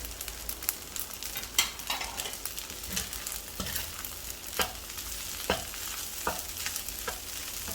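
A spatula stirs fried rice with fried anchovies in a hot pan, making repeated scraping clacks over a soft, steady sizzle, close and fairly quiet, with no voices.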